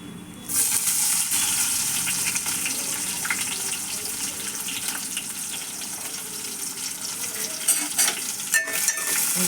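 Sliced onion and a green chili frying in oil in a pan while being stirred: a steady, bright sizzle runs throughout, broken by stirring scrapes and a few clinks near the end, with no talking.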